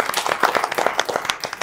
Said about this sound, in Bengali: জুবাইরের জন্য একবার জোরে হাততালি